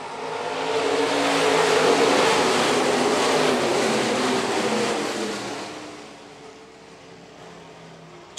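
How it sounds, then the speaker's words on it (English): IMCA stock cars roar around Phillips County Raceway in a race main, a loud, dense engine drone building as the pack passes, then fading to a distant hum. "IMCA stock car is underway here at Phillips County Raceway."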